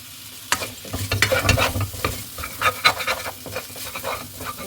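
Lemongrass, sliced shallots and garlic stir-fried in a pot, giving a steady close sizzle broken by repeated scraping and clacking strokes of a utensil against the pan, with no talking.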